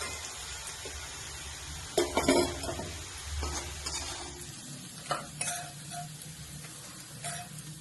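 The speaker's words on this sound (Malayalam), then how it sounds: "ഉള്ളി നന്നായി വഴന്നു വന്നിട്ടുണ്ട്" Onions sizzle steadily in hot oil, with a few sharp scrapes and clinks of a spoon against the pan and no talking.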